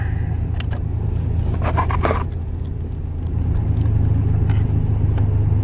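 A car rolling slowly, its low rumble steady and close with a few faint scrapes and clicks on top, and no voices.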